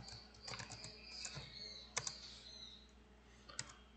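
Typing on a computer keyboard, quiet irregular clicks and bursts of keystrokes with a few sharper taps, close and faint with no talking.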